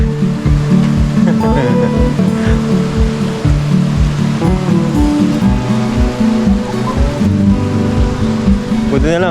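Strong floodwater surges across a highway, a loud continuous rushing roar with splashing throughout, while people talk and shout over it.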